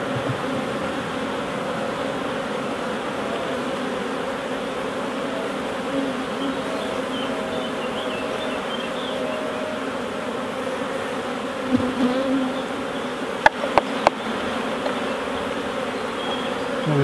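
Honeybees swarm over a hive frame during queen rearing, giving a steady, dense buzz that fills the whole stretch, with a few sharp clicks and knocks near the end.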